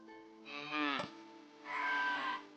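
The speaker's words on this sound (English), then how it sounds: "let's go talk to the cows" Cows mooing in the video game Divinity: Original Sin II, two long, clear, close moos in quick succession, with no talking over them.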